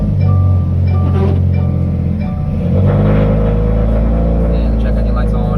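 2015 Subaru WRX STI with a P0141 downstream oxygen sensor fault starting up and idling, a loud close low rumble with a cranking burst that steadies into a deep idle, with a person talking over it.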